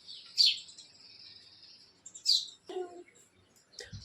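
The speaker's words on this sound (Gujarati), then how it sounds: "ચકલાનો અવાજ આવતો હોય ને બહુ મસ્તનો અવાજ હોય ચકલાનો" A few house sparrows chirp in short, sharp bursts with quiet gaps between them, fairly close against a still village-morning background.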